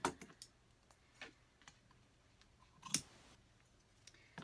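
Scissors trim ribbon on a DIY memo board, making a handful of sharp, sparse snips and clicks spaced apart at close range in an otherwise quiet room.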